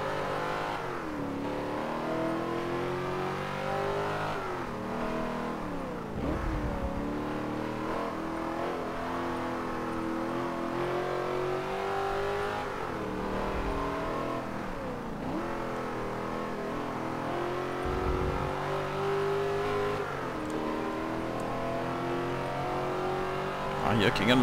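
A race car engine in Forza Motorsport 7 revs and shifts through gears, its pitch repeatedly climbing and dropping over a steady drone, with brief bumps between, while someone talks over it.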